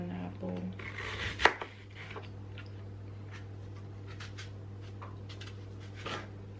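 A knife roughly chops a Pink Lady apple on a board, one sharp loud knock early followed by a run of quieter, scattered cutting taps over a constant low hum, with faint voices in the background.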